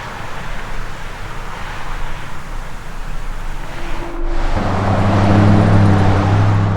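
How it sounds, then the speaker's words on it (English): Road traffic from morning commuters driving to work, a steady broadband roar of passing cars that swells louder midway as a heavier vehicle with a low engine drone goes by nearby. "there's a little bit of traffic from people going to work"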